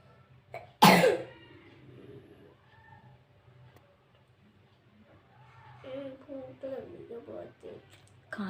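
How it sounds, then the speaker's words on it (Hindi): A sick child gives one sharp, loud cough near the microphone, then a quiet pause before an adult voice speaks softly in Hindi. "इनको खांसी हो रही है बहुत तेज से"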